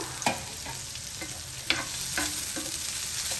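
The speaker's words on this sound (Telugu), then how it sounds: "ఉల్లిపాయ కొంచెం వేగింది లక్ష్మి ఇప్పుడు బంగాళదుంప కూడా వేగాలి" Sliced potatoes and onion sizzling in a frying pan, a steady close hiss broken by several sharp scrapes and clinks as a spoon stirs them, with no talk.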